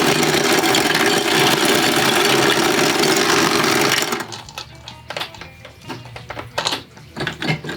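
A loud ice machine motor making ice for tiki cocktails runs with a dense, steady mechanical drone for about four seconds, then stops, leaving quieter scattered clicks and knocks.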